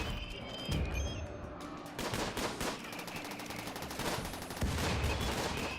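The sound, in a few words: turrets firing at enemies in the video game RimWorld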